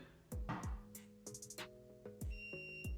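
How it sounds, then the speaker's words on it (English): Several sharp clicks and knocks from handling a laser level, then a thin, high electronic warning beep sounds steadily near the end, signaling the level is not level. "If it's not level, it'll beep to let you know it's not level."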